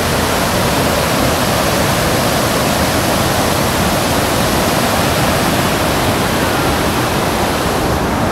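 Water rushing at Dajipur, a dense, loud, unbroken roar like a waterfall or fast stream, close by and constant throughout with no voices.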